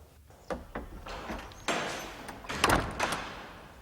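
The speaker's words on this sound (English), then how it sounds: "Close the door, Sexton." An office door is shut in a school headmaster's room, heard as several dull thumps and a louder closing knock near the end, with faint movement between.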